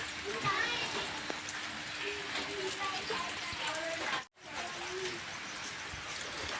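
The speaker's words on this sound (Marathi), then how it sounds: "बाहेर पाऊस आल्यामुळे वातावरण खूपच खराब छे" Rain patters steadily outside with a soft hiss during a Bail Pola bullock festival, while birds coo faintly in the background and a voice speaks briefly.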